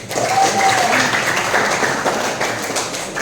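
Students in a classroom clap together in a dense, sustained round of applause lasting a few seconds, loud and close, with some voices mixed in.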